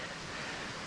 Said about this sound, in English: There's a beautiful stream that's coming down from the mountain.